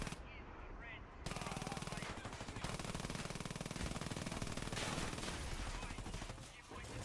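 Sustained automatic gunfire in the Frontlines Fuel of War shooter game, dense rapid bursts rattling continuously for several seconds, loud and close, with a brief quieter moment at the start.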